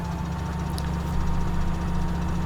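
A tractor engine in Farming Simulator 17 drones at a steady idle, a loud, continuous low rumble with a constant hum and no speech over it.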